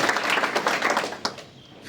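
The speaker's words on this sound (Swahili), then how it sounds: "tuwapigie makofi mazuri." A gathering at a Kikuyu church or family memorial claps together, a dense patter of many hands close by that fades out toward the end of the short burst.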